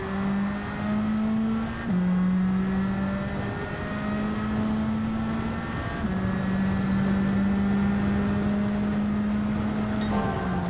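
A Nissan S15 touring car engine in Gran Turismo 7 drones steadily in racing at Autodrome Lago Maggiore, holding a sustained tone with a few quick gear-shift drops and rises over about eleven seconds, with no talking.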